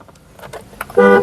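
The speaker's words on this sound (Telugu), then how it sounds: "హారన్స్ మంచి వర్కింగ్లో ఉన్నాయి" A 2014 Honda Brio S manual hatchback sounds its horn in one short, loud, steady blast near the end, following quieter mechanical noises.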